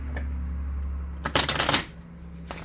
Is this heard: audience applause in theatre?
no